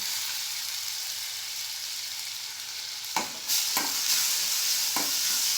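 Split chickpea dal with green chillies frying in a pan: a steady, close hiss of sizzling oil, then a few scraping strokes of a spoon stirring near the end.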